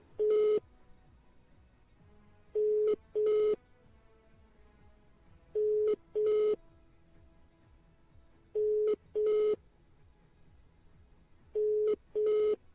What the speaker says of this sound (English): All right, it's ringing. It's a good sign.